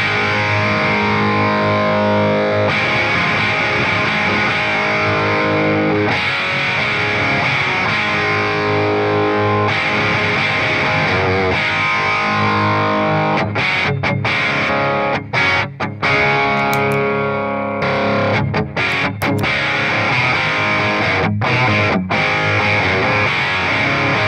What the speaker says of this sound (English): distortion breakup that you sort of expect from an old crank Marshall